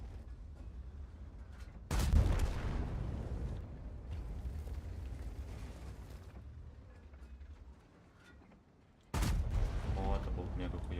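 Two heavy tank cannon blasts in a World of Tanks battle, each a sudden loud boom followed by a long rumbling decay, with game noise and faint talk in between.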